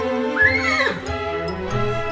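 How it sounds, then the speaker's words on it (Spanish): A horse neighs close by, one loud whinny rising sharply then trembling downward, followed by snorting and low rumbling breaths. "El relincho de un caballo no lo voy a imitar."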